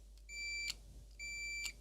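A multimeter in continuity mode beeps twice while its probes are jammed against the end of a part on an HP 5245L timer controller, two clear high tones about half a second each, with no talk.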